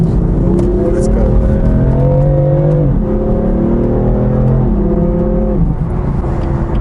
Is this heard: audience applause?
no